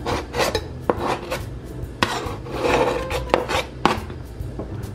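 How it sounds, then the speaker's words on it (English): Onion and garlic tumble into a pot for birria, producing a string of sharp clacks and scraping rustles as pieces are dropped and pushed around, close and fairly loud, with no voices. "So now we're gonna add in our onion and our garlic."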